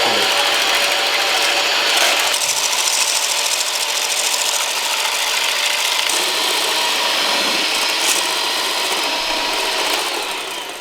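Electric mixer whipping egg whites to stiff peaks for a soufflé omelette, a steady loud whirring buzz running continuously with a slight change in pitch partway through, no talking.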